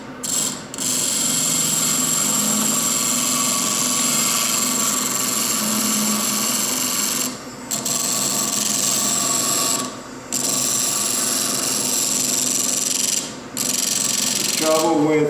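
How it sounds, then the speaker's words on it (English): A 1200 mesh flex wheel on a lapidary machine polishes a round cabochon, giving a steady abrasive whir with a high tone, broken by a few short pauses where the stone is lifted away. "This is a 1200 mesh flex wheel. Again, I'm just going to let the machine spin the cab."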